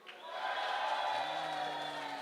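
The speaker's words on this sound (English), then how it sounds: "I think the crowd are cheering louder for Eva." Audience at a beetleweight combat robot tournament cheering and whooping in a steady sustained roar, fairly loud and continuous for a couple of seconds, with a voice faintly under it.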